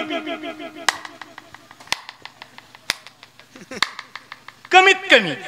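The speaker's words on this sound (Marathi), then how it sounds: "बरं आता कीर्तनात भजनात टाळी कशी वाजली पाहिजे?" Single sharp hand claps ring out at a steady pace, about one per second, as part of a kirtan during a Sant Gajanan Maharaj death-anniversary gathering, with someone talking between them.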